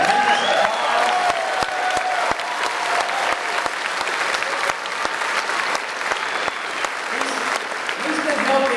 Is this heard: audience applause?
yes